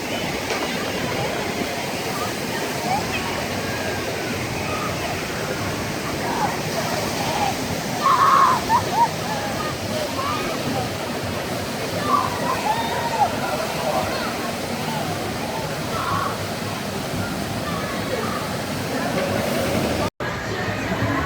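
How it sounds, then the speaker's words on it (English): Steady rushing, splashing water from the Race for Your Life Charlie Brown log flume ride at Kings Island amusement park, a continuous broadband roar with crowd chatter in the background throughout. "Getting ready to ride the log flume, which is called a Race for Your Life, Charlie Brown."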